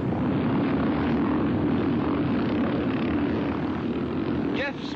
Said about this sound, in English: is in the lead on the 420cc BSA, and behind him, Per Olaf Persson on the Husqvarna